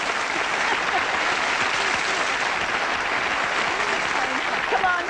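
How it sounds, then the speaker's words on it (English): A 1984 television studio audience gives a sustained round of applause, even and full throughout, with faint voices underneath. "you like to give a big round of applause?"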